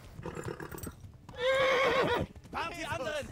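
A horse neighs loudly and close in the medieval game Kingdom Come: Deliverance, a long quavering whinny followed by a second shorter snorting call, with hoof clatter and background game noise underneath.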